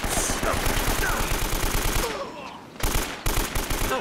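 Rapid automatic gunfire from a shootout in the video game Uncharted: Drake's Fortune, a steady rattling burst that breaks off briefly near the end and then resumes, loud and close with no talk over it.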